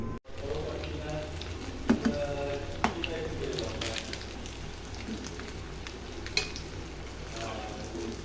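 Chicken nuggets frying in oil in a pan, a soft steady sizzle with occasional clinks of utensils and a few quiet sounds of handling.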